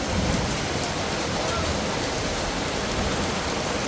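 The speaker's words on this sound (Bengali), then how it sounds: "ওই দেখছেন কীভাবে শিলা পড়তেছে" Hail and rain pelt down steadily on a tin roof, a loud, dense, unbroken roar of impacts that continues without pause and with no voices.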